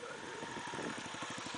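A motorcycle being revved on sand near a river: a faint, distant engine drone that swells into a fast rhythmic pulsing as the throttle opens.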